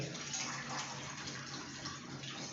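A steady rush of water pouring into a pot of ridge gourd sambar, continuous and fairly close, with no voices.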